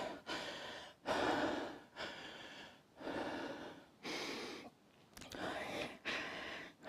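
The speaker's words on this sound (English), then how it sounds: "I'm afraid you might be put off by my heavy breathing" Heavy rhythmic breathing from a person exercising in a yoga strength-training session, about six loud, close inhales and exhales in steady succession, with short pauses between breaths and no talking.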